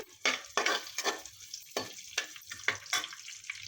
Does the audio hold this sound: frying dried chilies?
yes